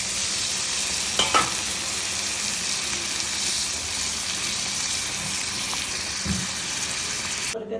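Rui fish sizzles loudly in hot oil in a pan, a steady dense crackle and hiss with a few scraping stirs of a utensil, close by and with no voices.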